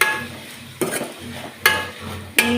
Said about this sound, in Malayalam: നല്ലപോലെ ഇളക്കി ഉപ്പും മഞ്ഞൾപ്പൊടിയും കൂടെ ഇട്ട് കൊടുക്കാം